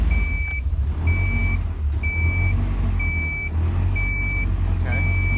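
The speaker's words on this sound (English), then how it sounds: "It's idling pretty good at 20 inches of vacuum" A Honda CRX with a B17 engine idles steadily at around 1300 rpm on a cold 50-degree day, a low even hum running throughout while a repeating high electronic beep sounds about once a second over it.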